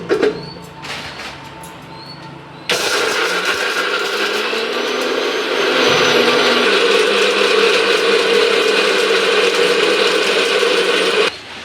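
A new mixer grinder whirs loudly and steadily at close range for about nine seconds after a brief quieter start, its motor tone holding a continuous high-pitched roar until it cuts off at the end.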